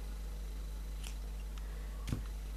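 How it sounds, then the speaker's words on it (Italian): Scissors snipping crochet yarn: two faint, brief cuts over a quiet hum of room noise, with no voices. "taglio il filo, se trovo le forbici"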